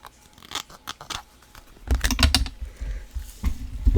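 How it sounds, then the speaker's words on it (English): Paper is trimmed along one side of a card with a cutter or scissors, giving a series of crisp snips and scraping cuts up close, louder toward the end. "Okay, one more side to trim."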